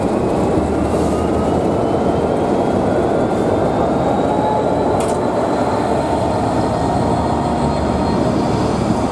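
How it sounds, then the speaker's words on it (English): A Class 66 diesel locomotive departs toward the sidings at a heritage railway diesel gala, its engine a loud, continuous rumble that stays steady throughout, with faint rail squeal high above it and no voices. "The 66 now departs for Dereham sidings."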